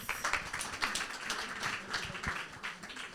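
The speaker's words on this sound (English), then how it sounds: "Round of applause." Soft, distant applause from an audience at an entrepreneurs' panel talk on women founders, a steady patter of many hands that stays fairly quiet throughout.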